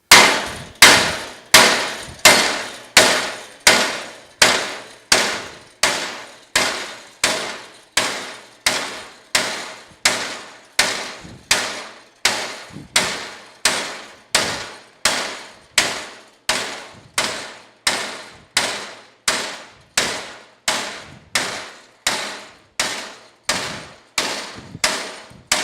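Heated part of a Bush Hog SQ84T series rotary cutter struck repeatedly with a hammer, a long run of sharp metallic clangs in a steady rhythm, about one blow per second, close and loud.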